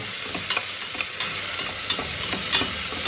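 Chicken pieces frying in oil for chicken soup give a steady, close sizzle, broken by regular scraping strokes as the pan is stirred.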